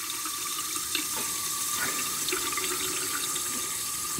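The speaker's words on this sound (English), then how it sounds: "Water pump's running now, because it's topping that pressure back up." Water pours steadily from a tap in a campervan while the onboard water pump runs to restore pressure, a continuous close rushing flow with no voices.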